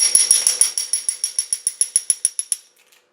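A ratchet socket wrench clicks through about a dozen quick, evenly spaced turns as a bolt is loosened on a Jaguar 3000 FC teardown. The clicks are crisp and close, then stop, with one or two faint clicks after.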